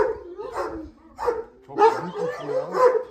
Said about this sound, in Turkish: burada şimdi havlıyorsun